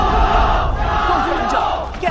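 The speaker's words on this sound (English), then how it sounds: "he hears the crowd roaring" A dense, loud crowd roars and shouts without a break at a fight, close and filling the whole clip.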